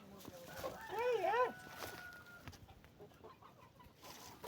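Chickens cluck near a doorway, with a burst of clear tonal clucks early on and then scattered softer calls. Voices talk over the background.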